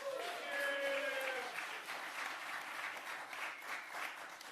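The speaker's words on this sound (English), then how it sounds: "A big round of applause for Susie." A room of people claps at a city bill signing ceremony, a sustained round of applause heard at a moderate distance, with a brief voice or cheer near the start.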